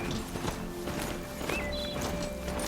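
The hooves of a horse mount in the video game Horizon Zero Dawn clop in a steady walking rhythm, fairly close, with faint game tones and chimes over the top and no talking.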